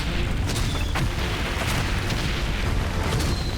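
Explosions in the World War I game Valiant Hearts: The Great War, a dense continuous roar of booming blasts with sharper bursts cutting through, loud and close.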